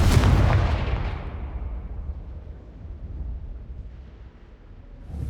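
A Confringo explosive spell in the video game Hogwarts Legacy goes off as a single loud, booming blast that rumbles and fades away.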